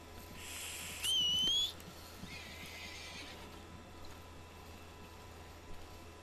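A short, sharp whistle for a horse in the video game Red Dead Redemption 2 rises briefly near the start amid a faint background hum, followed by quieter, softer noises and occasional light thuds.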